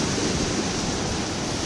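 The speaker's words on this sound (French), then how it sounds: "voilà la limite de l'embouchure de la rivière des Galets" Surf breaks at the mouth of the Rivière des Galets on Réunion, giving a continuous broadband wash of water. It is steady and fairly loud, with no voices.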